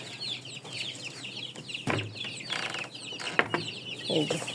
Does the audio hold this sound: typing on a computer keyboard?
no